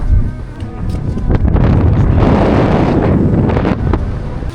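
Loud, gusting cold wind roars across the microphone on a hillside in Puerto Rico, a constant heavy rumble that swells in the middle.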